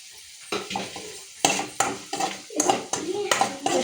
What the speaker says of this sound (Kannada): ಮತ್ತು ಹಸಿಮೆಣ್ಸಿನ್ಕಾಯಿ ಹಾಕ್ತಿದ್ದೀನಿ.